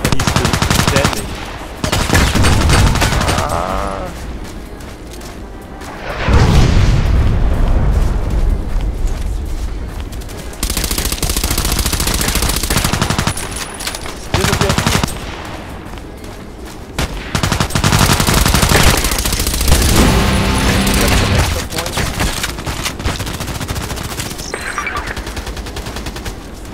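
Heavy bursts of automatic gunfire aimed at a VIP target in Contract Wars, loud and close, coming in long rapid volleys broken by short pauses and occasional booms.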